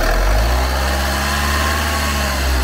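A Jaguar engine with an EGR fault and a temporary repair runs steadily at about 2,000 RPM, a loud, continuous close-up drone with no pauses.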